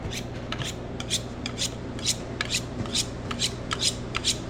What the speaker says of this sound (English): Sharpen up a little bit here.